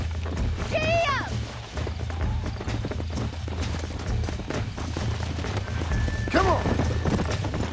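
A horse in the Red Dead Redemption game on Xbox One gallops with steady clip-clop hoofbeats and lets out two sharp whinnies, while someone talks over the action.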